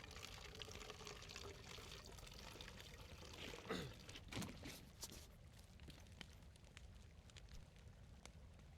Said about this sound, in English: I've filtered the water with the water filter and poured it into the glass bottle